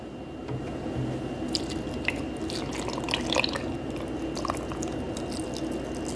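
Milk poured into a cup close up, a soft continuous trickle with small drips and splashes, fairly quiet and steady throughout, no talking.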